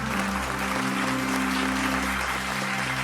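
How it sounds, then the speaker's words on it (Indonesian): Audience applause at the Women's Inspiration Awards 2025 in Indonesia, a steady, even wash of clapping heard over a constant low hum from the venue's sound system. "Kita berikan tepuk tangan untuk perempuan-perempuan Indonesia."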